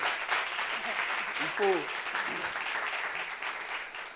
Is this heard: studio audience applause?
yes